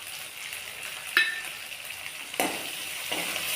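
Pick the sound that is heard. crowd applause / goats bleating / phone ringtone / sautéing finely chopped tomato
sautéing finely chopped tomato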